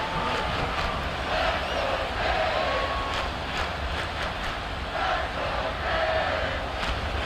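Stadium crowd in a Madden 24 NFL game, Raiders at Dolphins, roars as a constant loud wash that swells slightly, with no clear talk.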